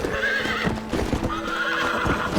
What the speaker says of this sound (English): Cavalo monocromático.